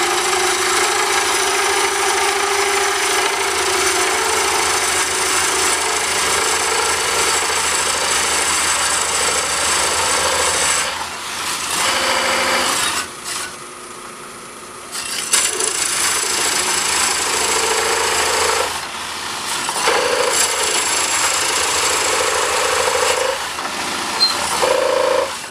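A Korpro core drill bores through material, throwing out shavings as it cuts: a steady, loud grinding rasp that runs without a break, briefly dropping away around the middle before resuming at full strength.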